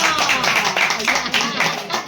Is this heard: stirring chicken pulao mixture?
no